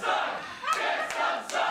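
A pro wrestling crowd in a gym reacts to a wrestler with loud, sustained shouting and jeering, swelling in repeated waves that fill the whole clip.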